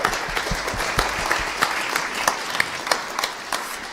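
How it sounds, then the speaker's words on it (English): An audience at a talk on farming, data and machines applauds the speakers: continuous dense clapping from a modest crowd, with a few louder nearby claps popping out over the steady patter. "Give a big applause for our speakers,"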